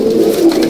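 A brief, close, rolling coo from black pigeons kept in a loft, one steady low throaty phrase without any speech.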